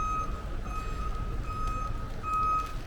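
A municipal truck backing up on a city street in the Bronx's Arthur Avenue, sounding a steady series of moderately distant reversing beeps over low traffic rumble.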